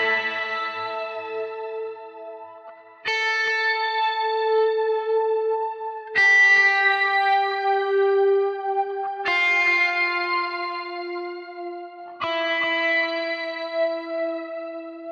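Electric guitar played through a BOSS GT-1000CORE multi-effects unit on a metal patch with a slow modulation effect: five sustained, ringing chords, each struck about every three seconds and left to swell, close and clear with no voices.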